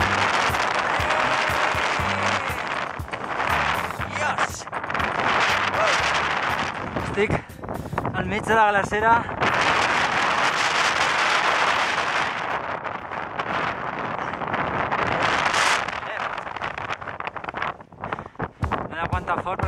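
Strong wind blows across a mountain glacier on the climb to Aneto's 3404 m summit, gusting and buffeting the microphone in loud roaring bursts while someone talks over it.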